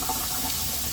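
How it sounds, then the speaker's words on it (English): Water runs steadily from a tap as sprouting seeds are rinsed in a kitchen sink, a continuous close splashing wash with no voices. "I'm going to rinse each one twice."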